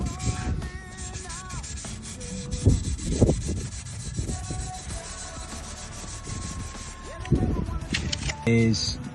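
A scrubby pad rubs back and forth over a car exhaust pipe in short rasping strokes, close and fairly steady, with a few pauses and a speaking voice over it.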